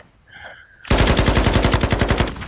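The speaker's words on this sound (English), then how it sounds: "Oh, I'm getting shot again." Automatic weapon fire in Call of Duty Warzone 2 erupts after a short electronic tone, a loud, fast, evenly spaced burst of shots lasting over a second, with no voices.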